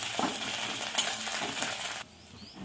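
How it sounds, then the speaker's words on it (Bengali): Ginger-garlic paste frying with onion in a pan, a steady close sizzle with stirring scrapes, cutting off abruptly near the end to a quieter hiss. "আদা রসুনটা পেঁয়াজের সঙ্গে কষিয়ে নেবো একটু"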